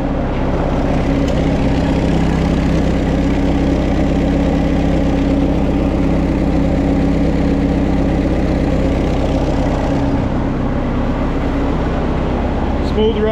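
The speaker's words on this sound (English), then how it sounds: "Smooth runner tractor, that's for sure." A Minneapolis-Moline 4 Star tractor engine idles smoothly and steadily at close range, a constant low rumble running without change throughout.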